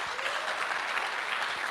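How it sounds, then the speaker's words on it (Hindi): Audience at a company event in a hall breaking into steady, enthusiastic applause, a continuous patter of many hands clapping at moderate volume. "मैं चाहूंगा एक बार जोरदार ताली होनी चाहिए वेस्टीज मार्केटिंग प्राइवेट लिमिटेड के लिए."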